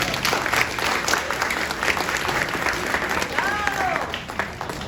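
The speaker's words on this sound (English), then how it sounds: "Let's give her a nice round of applause." A comedy club audience applauds a comedienne as she takes the stage, steady dense clapping throughout with cheering and crowd voices mixed in.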